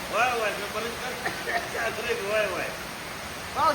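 Heavy downpour during the rainy season at a house in a rural setting, a steady broadband hiss of rain running throughout, with people talking over it.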